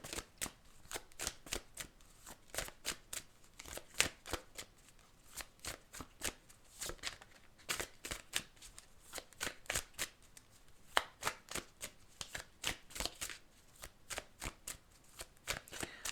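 An oracle card deck called What Lies Beneath being shuffled by hand, a steady run of crisp riffling card flicks and slaps in repeated bursts, fairly close and alone without any talking.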